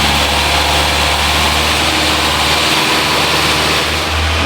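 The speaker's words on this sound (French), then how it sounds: "le ralenti est vraiment trop élevé. 2500 tours minute." A Ford Mustang engine idles far too high at around 2500 rpm, a loud, steady close drone with a dense low hum that dips briefly near the end, and no one speaking.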